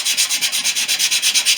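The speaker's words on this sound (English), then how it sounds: "roughing up the plywood" Plywood being hand sanded lightly across the grain for a Fisher Youngster wing, a close, steady rasping stroke repeated rhythmically about eight times a second, alone with no voices.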